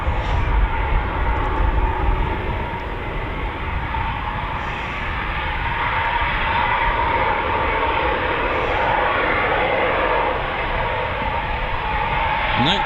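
A Eurofighter Typhoon jet of 29 Squadron, flying at RAF Coningsby, gives a steady, loud broadband roar that holds evenly from start to finish.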